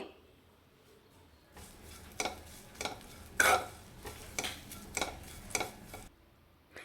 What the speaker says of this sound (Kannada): ಕರಿಬೇವು ಕೊಬ್ಬರಿ ಎರಡನ್ನೂ ಹುರ್ಕೊಂತೀನಿ